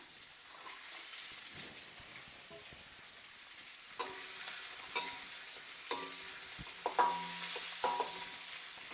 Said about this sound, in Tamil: இதை ஃப்ரை பண்ணால் கருணக்கிழங்கையும் நான் இதுக்குள்ளே சேர்க்குறேன்